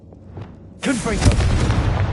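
A Confringo fire spell in the Hogwarts Legacy video game erupts abruptly out of near-quiet into a loud, booming blast with a rumbling, crackling tail that lingers to the end, while a voice can be made out faintly in the mix.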